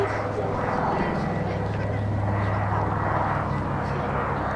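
The piston engines of a Catalina flying boat drone steadily as it flies a display at the Duxford Battle of Britain air show in 2018, a continuous low throb with crowd voices murmuring underneath.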